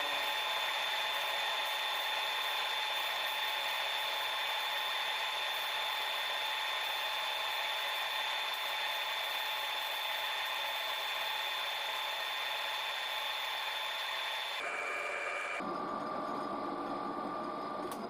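A steady, high-pitched whine of a machine drilling a metal fitting with an 8.8mm drill, 40mm deep, runs continuously, then shifts pitch near the end as the cut changes; no talking.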